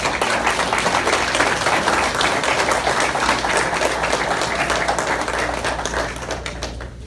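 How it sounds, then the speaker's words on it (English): A graduation crowd gives sustained, dense applause for instructors and administrative staff, steady and loud, then tapering slightly at the end. "Let's give them a warm round of applause."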